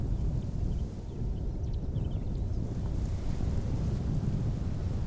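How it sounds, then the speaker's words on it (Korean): Strong mountain wind roars at the Black Wind Pass on Baekdu Mountain, a steady, loud, low buffeting rush with gusty mic rumble throughout and no voices. "유난히 바람이 새 흑풍구라 부르는 곳이다."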